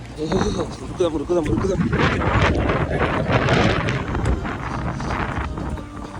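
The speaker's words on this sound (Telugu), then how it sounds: "నాకు తెలిసి ఫుల్ విండ్ అయితే వస్తుంది" Strong wind buffets the microphone in a continuous low roar during a heavy rainstorm in the USA, with people talking underneath throughout.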